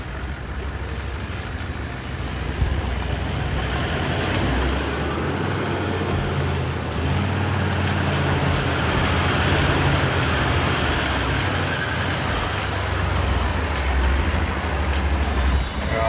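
A motorcycle edges slowly across a creek on a back track to Pago, its engine a steady, fairly loud drone over rushing noise throughout.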